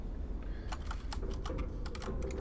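Computer keyboard keys pressed while playing Portal, a quiet run of separate clicky taps at an uneven rhythm over a low background hum.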